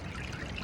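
Water pours and trickles steadily through a gold sluice box, a brief close, continuous rushing flow with no voices.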